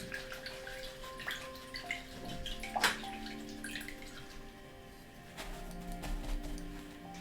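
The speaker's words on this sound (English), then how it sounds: "I'm going to rinse out my brush." A paintbrush being rinsed in a water jar during an acrylic ocean painting session, giving soft sloshing and dripping splashes with a brief louder swirl in the middle, close and alone.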